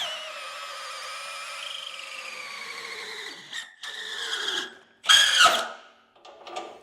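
A reamer spun by a drill chews through metal while a bolt-on four-link coilover kit is fitted to a Squarebody truck, giving a high whining grind that wavers in pitch, breaks off briefly, then bursts into a sharper screech near the end.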